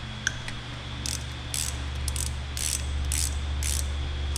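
A socket ratchet tightens a connecting rod bolt on a supercharged 306 small-block Ford engine build, giving close, rhythmic bursts of clicking over a low background hum.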